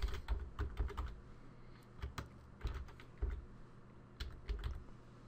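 Fingers type on a computer keyboard in quick, irregular bursts of close, crisp key clicks, with brief pauses between runs.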